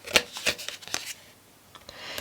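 Oracle cards being shuffled by hand during a Taurus love tarot reading: a few quick riffling bursts close up, strongest at the start, then softer scattered card flicks, with no voices.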